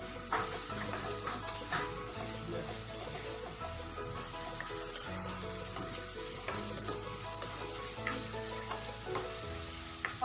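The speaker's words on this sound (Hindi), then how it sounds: "अदरक लहसुन डाल दिया है और इसे अच्छे से भून लेंगे।" Steady sizzling of ginger garlic paste frying in a hot pan, with faint stirring scrapes and occasional clinks, close and continuous.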